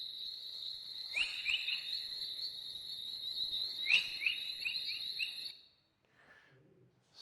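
Space plasma chorus wave emission converted to sound: a steady high tone with repeated rising whistle-like chirps, several in quick runs, fairly faint and continuous before dropping away near the end.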